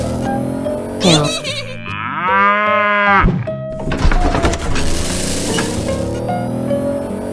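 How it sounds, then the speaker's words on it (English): A cartoonish cow moo from a 3D animal slide video game, one drawn-out lowing call in the middle, surrounded by other bright game sound effects and animal noises. "Cow."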